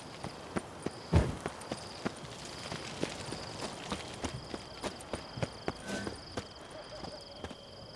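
Horse hooves clip-clopping in the Witcher 3 video game, a regular walking rhythm of sharp hoof knocks over a quiet bed of ambient insect chirps, with one heavier thud early on.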